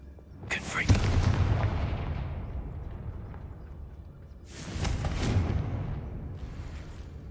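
Two heavy explosive blasts from the Confringo fire spell in the Hogwarts Legacy video game, the first a sharp crack at about one second followed by a long rumbling decay, the second a softer boom later, loud and booming with no talk.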